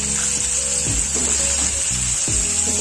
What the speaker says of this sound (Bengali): এবার আমি কুমড়ো গুলো ভেজে নেব।